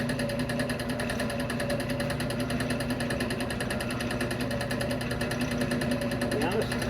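A wood lathe turns a large maple bowl blank at its slowest setting, making a loud, continuous motor hum with a fast, even pulsing rattle. Speech can be heard faintly beneath it.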